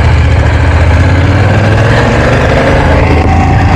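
A BMW F900 GS motorcycle engine idles close by with a steady, loud, low throbbing rumble that holds even throughout, no voices over it.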